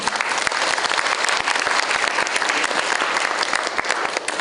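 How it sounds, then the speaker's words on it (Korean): An audience at a university debate final breaks into loud, sustained applause, a dense and steady roar of many hands clapping at once, with no talking over it. "다시 한번 박수 부탁드리겠습니다."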